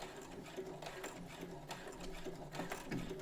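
A Brother CS7000X sewing machine stitches a fabric collar, its needle running in a steady mechanical whir with small rhythmic fluctuations, close and moderately loud, with no talking.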